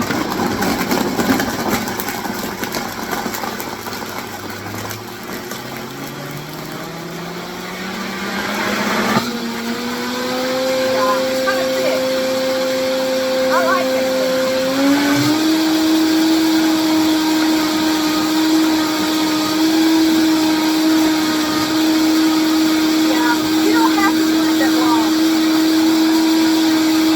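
A blender on its smoothie setting whirs through a chocolate banana smoothie, starting lower and ramping up to a loud, steady high-pitched whine that holds for about twenty seconds, with a step up in pitch partway through.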